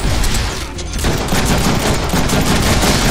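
Rapid bursts of gunfire in the Deadpool video game, loud dense volleys that pause briefly and then resume continuously, with no talking over them.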